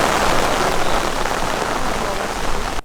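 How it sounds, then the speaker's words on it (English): Heavy rain pours steadily at a downhill mountain bike World Cup race in La Bresse, a dense, loud, unbroken hiss of drops hitting the ground that cuts off abruptly at the end. "the heavens opened and the rain came"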